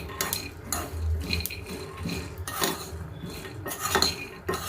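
Spoon scraping and clinking against a pan while ingredients for tomato chutney fry on low heat, a steady series of soft metallic taps and scrapes, close by.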